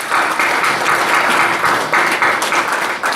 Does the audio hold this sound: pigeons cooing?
no